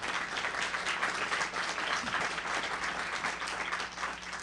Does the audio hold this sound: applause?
yes